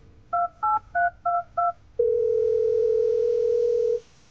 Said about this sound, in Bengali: একটা ফোন করলেন রথিন